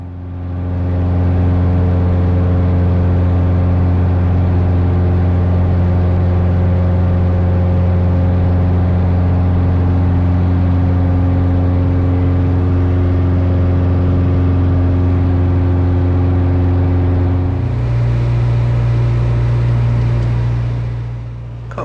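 Carbon Cub FX3 aircraft engine at full throttle during a steep climb, a loud, steady droning hum from the cockpit that shifts slightly in pitch near the end.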